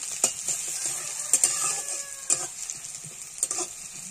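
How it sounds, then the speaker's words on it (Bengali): Onion and garlic frying in mustard oil in a pan, a faint sizzle broken by several sharp scraping stirs, with a rooster crowing now and then in the distance. "পেঁয়াজ রসুনটা ভালো করে ভেজে নেব।"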